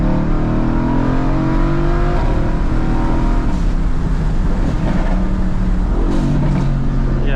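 A tuned 2017 Mercedes-AMG GT with upgraded turbos and open exhaust valves accelerates hard in second gear after a quick downshift, its engine note rising steadily and loud from inside the cabin, with no talking.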